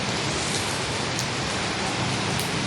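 Heavy rain pours down on a highway in a steady, dense wash of noise, close and constant throughout, with no voices.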